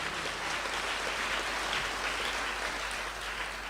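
A congregation at a Hindi-language Christian worship service applauds, producing a steady, even roar of many hands clapping at once. The applause stays constant throughout and is heard from a moderate distance.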